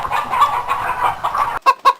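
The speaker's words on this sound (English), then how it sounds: "the chicken wants your fruit snacks" A hen clucks close by, giving a string of soft, repeated clucks followed by two sharper, louder clucks at the end.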